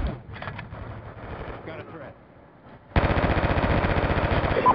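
An assault rifle in Call of Duty fires a loud, steady automatic burst near the end, after a stretch of battle noise and voices.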